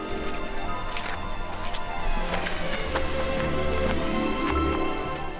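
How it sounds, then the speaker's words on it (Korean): A waterfall in the Ein Gedi valley near the Dead Sea, in desert terrain, pours down in a constant broadband rush, with scattered splashes and knocks breaking through the wash. "시원하게 떨어지는 폭포수"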